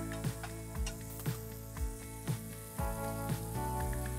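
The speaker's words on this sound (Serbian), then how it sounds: "ovo se lepo i brzo prži" Leskovac-style uštipci meat patties fry in hot oil with a steady close sizzle, punctuated by regular scraping knocks of a utensil against the pan roughly every half second.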